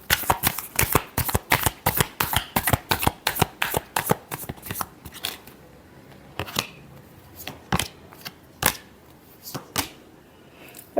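Tarot cards being shuffled by hand, a rapid run of crisp riffling flutters at first, then slowing into scattered separate card slaps, close and clear with no voices.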